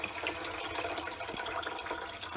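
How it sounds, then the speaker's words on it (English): Water pours steadily into a cooking pan holding soaked rice, a soft continuous splashing and trickling heard close by and fairly quiet. "Now I'm going to put some more water in to cook the rice."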